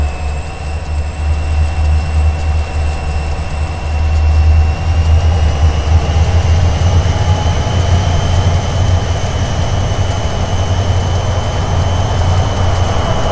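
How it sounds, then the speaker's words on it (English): A GP40-2 diesel locomotive in a train simulator game works hard under load, its exhaust a heavy, steady rumble with a high whine above it. It grows louder about a third of the way in and holds. "under a higher load, the exhaust is a lot more dominant"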